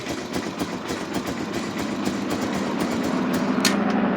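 A 1996 Honda FourTrax 300 ATV engine runs at a steady, close idle, its even low chugging continuing throughout with a faint rattle and no voices.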